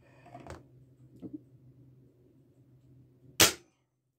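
Single sharp crack of a Hatsan Torpedo 105X .177 air rifle fired over a chronograph, loud and brief near the end, with low background hum before it.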